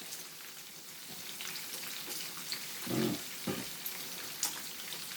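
Bacon sizzling and crackling in a hot frying pan: a steady dense hiss with scattered pops and a brief clatter midway, close and continuous, with no voices.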